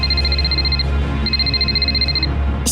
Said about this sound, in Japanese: 宗楽学長から着信です。